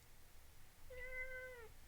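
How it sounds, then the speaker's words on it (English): A cat lets out a single drawn-out meow, clear and fairly close, rising out of a quiet room hum and trailing off after under a second. "You're going to meow for them at least?"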